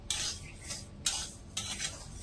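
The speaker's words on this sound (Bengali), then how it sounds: "চালের সাথে একটু নেড়ে ছেড়ে ভেজে নেব" Raw rice and nuts being stirred and dry-fried in a pan, a spoon scraping through the grains in three or four long rasping strokes with short pauses between, close and clear.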